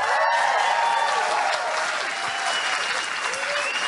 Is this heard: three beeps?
no